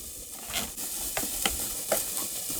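Chopped pastrami, beef and cheese wraps fry in a pan on a camp stove, with a steady sizzle and a few sharp scraping stirs at a close, moderate level.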